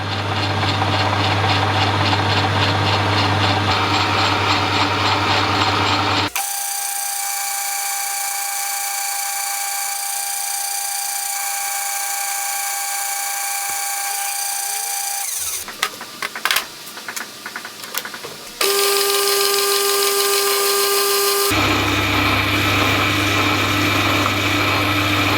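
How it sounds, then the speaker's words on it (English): A lathe turning steel end plates for tubular steel table frames: a steady motor hum, then long spells of high whining tonal cutting, with a short rattling, uneven section of tool chatter in between. "I'll literally make any excuse to get on the lathe."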